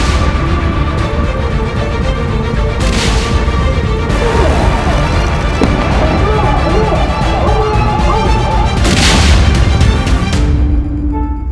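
Rocket fire launched by Hezbollah fighters from the Lebanon border, heavy booms and bursts overlapping in a dense, loud barrage with rumbling between blasts, a voice speaking briefly in the mix.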